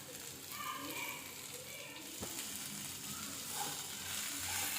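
Mixed vegetables with green peas sautéing in a pan for a Tamil-style veg kurma, giving a steady, even sizzle and hiss throughout, with one brief clack of a spoon midway.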